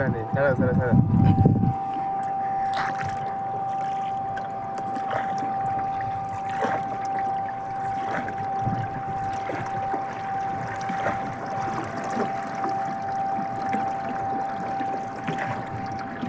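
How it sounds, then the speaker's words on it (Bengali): A small wooden dinghy crosses a river toward a sandbar island, with soft water and rowing sounds, a steady drawn-out tone and a voice talking throughout. "তার জন্য আমি ডিঙি নৌকাই পার হচ্ছি"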